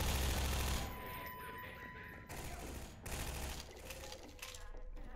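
Gunfire in the video game Half-Life 2, a rapid burst of shots that fades into scattered, quieter shots and mechanical clatter, heard at moderate distance.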